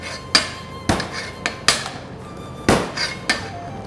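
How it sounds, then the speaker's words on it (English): A cleaver smashes and chops shrimp on a cutting board to make minced shrimp, a series of about seven sharp, loud, irregularly spaced knocks close by, with no talking. "smash it, push forward. This is what we call minced shrimp."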